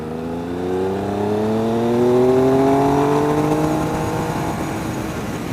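A 2013 Triumph Speed Triple motorcycle with an under-seat exhaust accelerates hard, its engine note climbing steadily through the revs, loud and close, then easing slightly with wind noise.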